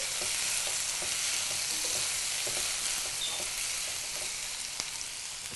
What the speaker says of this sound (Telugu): ఒకసారి బాగా కలిపి